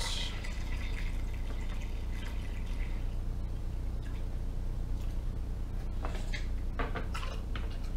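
Hot wort poured into a Mr. Beer fermenter over hop sacks for a rye IPA, a continuous liquid rush with splashing and dripping, a few brief clinks and knocks toward the end.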